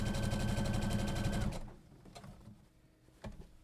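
A sewing machine stitching the seam of a fabric tote bag, a fast steady whirring hum of needle strokes for about a second and a half before stopping, followed by a few soft clicks and handling noises.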